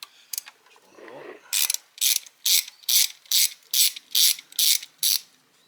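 Ratchet clicking as it backs a bolt out of the thermostat housing on a 1994-1997 Chevy S10 2.2L: about nine sharp, evenly spaced bursts of close, crisp ratcheting after a softer fumbling start.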